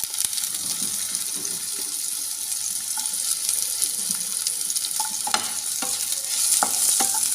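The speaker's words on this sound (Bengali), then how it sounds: "আলু ভাজার ওই তেলের মধ্যেই আমি দিয়ে দেব উচ্ছেগুলো।" Bitter gourd pieces fry in the oil left from frying potatoes, giving a steady bright sizzle throughout with occasional stirring clicks and scrapes.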